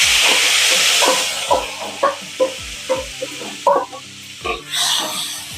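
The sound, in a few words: ginger and lemon peel frying in hot oil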